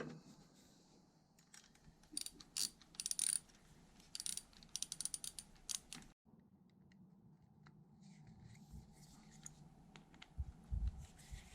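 A ratchet works bolts loose on a Yamaha XV750 motorcycle, with bursts of quick clicking pawl strokes between quieter pauses and handling noises, close by and moderately loud.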